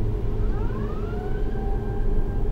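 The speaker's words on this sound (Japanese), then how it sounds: "なんかサイレン鳴ってるけど。" A siren wails outdoors with rising and falling tones, moderately distant, heard over a steady low rumble of traffic or engine noise.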